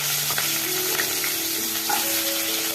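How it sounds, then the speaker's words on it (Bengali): Chopped raw potatoes fry in hot oil in a kadai, giving a loud, steady, close sizzle with no pauses. "এগুলো একটু ভাজা ভাজা হয়ে গেলে তারপর তুলে নেবো আমি"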